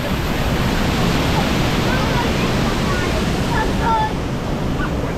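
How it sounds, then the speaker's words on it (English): Rushing water pours down a waterfall on a water ride at Europa Park, a loud, steady broadband roar that fills the whole clip, with faint excited voices underneath. "Waterfalls."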